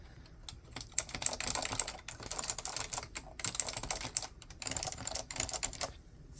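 Typing on a Dell AT101w keyboard with Alps cream switches, a quiet, steady run of dense clacky keystrokes in uneven bursts with short pauses, close and alone.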